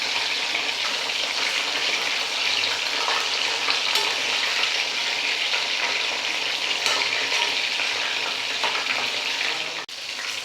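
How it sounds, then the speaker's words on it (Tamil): Masala-coated fish sizzles loudly and steadily in a frying pan, with bubbling crackle and a brief clatter near the end as the pieces are turned over. "ஒரு பக்கம் வெந்துடுச்சு. இப்போ திருப்பி போட்டுக்கலாம்"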